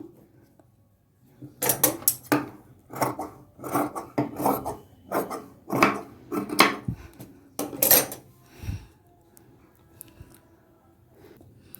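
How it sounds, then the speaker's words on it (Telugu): Scissors cutting blouse cloth in a straight line, a steady series of close, rhythmic rasping snips lasting several seconds before fading to quiet. "ఇప్పుడు మీరు ఎక్స్ట్రా ఏమైనా క్లాత్ ఒక వన్ ఇంచ్ వరకు క్లాత్ ఉంచుకుని స్ట్రైట్గా నీట్గా కట్ చేసేసుకుందాం"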